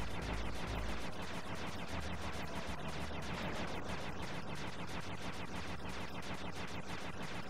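Rapid bursts of gunfire from the video game Sly 2: Band of Thieves, a dense, steady volley of repeated shots at constant loudness, with no voice over it.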